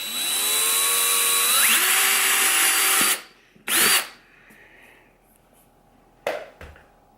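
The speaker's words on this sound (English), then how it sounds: "I just picked a drill bit that's just a little bit smaller than the diameter of that T-bolt" Close, loud power drill runs hard for about three seconds boring a hole for a T-bolt in a plastic dry pod, gives a second short burst, then a few light handling knocks.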